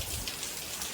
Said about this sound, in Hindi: ताकि बारिश थोड़ा सा बंद हो तो हम लोग निकलें